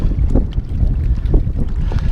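Strong wind blows steadily across a microphone outdoors at Fate Dam, a loud, constant roar with gusty low rumble and no speech.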